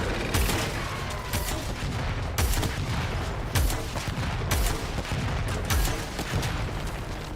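Bursts of gunfire from the video game Warframe crack out repeatedly, sharp loud shots spaced roughly a second apart over a steady noisy battle background, with no talking.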